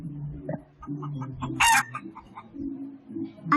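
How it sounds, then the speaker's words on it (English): Rooster crowing once in a brief bright burst over soft background music, near and distinct, with a few quieter clucky sounds around it. "A chicken."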